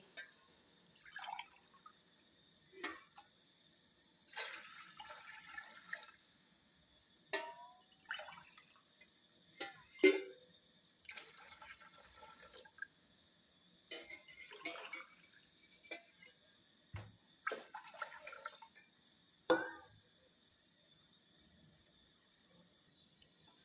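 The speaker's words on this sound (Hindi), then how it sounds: "इसमें हम दुगना पानी ऐड करेंगे, यानी कि हम 4 गिलास पानी ऐड करेंगे" Water from a glass poured into a pot of rice and peas for chicken pulao, repeated splashing pours in bursts with drips between, quiet and close.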